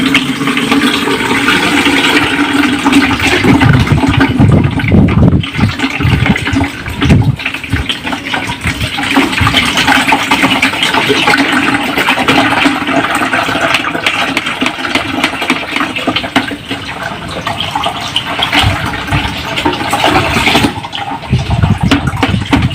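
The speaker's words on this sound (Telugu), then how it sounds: "నేను కలుపుకున్న దాన్ని ఇలా వడకడుతున్నాను చూడండి." Homemade banana liquid fertilizer poured through a strainer, a continuous loud gushing and splashing of liquid, close up, with uneven surges and no talking.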